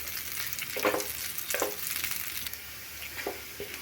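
Onions and garlic frying in oil in a pan, lightly stirred: a continuous bright sizzle with a few louder crackling bursts as the pieces are moved around.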